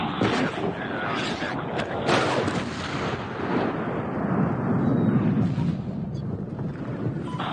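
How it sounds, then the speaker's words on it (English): Bombs dropped from aircraft explode in Medal of Honor 2010 during the Bagram mission: a dense, continuous roar of heavy blasts and rumbling artillery-like booms, loud and sustained throughout. "Neptune bombs away."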